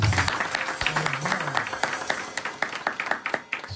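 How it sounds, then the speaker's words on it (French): A Haitian church congregation in Savannah applauds during Sunday service, a steady patter of claps with a few sharper hits, some talk mixed in near the start. "On nous applaudit."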